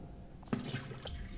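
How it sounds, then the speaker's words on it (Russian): Wet squelching and dripping as a toilet is cleared with a plunger in a snowy horror escape video game, a few soft liquid squishes close by, brief and moderately quiet. "Чистим унитаз."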